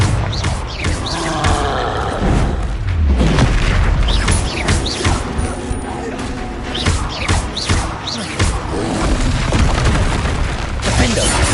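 Confringo blasting-spell explosions in the video game Hogwarts Legacy: repeated loud booms and bursts amid dense combat noise, with shouted voices and a horse-like whinny cutting through, near and busy.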